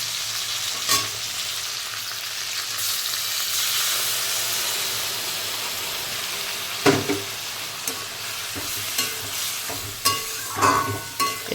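Vegetables and eggplant fry in a pan with spices. A steady loud sizzle carries the whole stretch, and several sharp scraping stirs land near the end. No one speaks.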